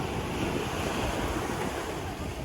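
Steady rushing roar of ocean surf at Sokcho Beach, South Korea, broad and continuous with a windy hiss, no voices.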